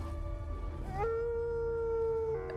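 Wolf howl from the Twilight film, a single long sustained tone that rises and then holds steady over a low rumbling background, fairly close and clear.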